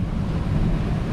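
Strong wind and breaking waves on a breezy night at sea aboard a solo sailing boat, a dense, steady roar with heavy wind buffeting on the microphone and no voices.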